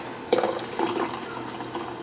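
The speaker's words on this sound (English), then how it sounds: "And then I just pour the hot water in." Hot water poured into a tempered glass set inside a bowl, a brief bright splash followed by a short, close, filling trickle with no talking.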